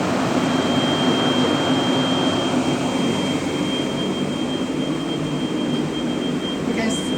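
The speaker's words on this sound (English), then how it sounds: "now the fan is working. It's very big fan." A very large cooling fan on a Rawsuns RAD20000 diesel electric system runs with a loud, steady rushing roar and a constant whine, close by and unchanging throughout.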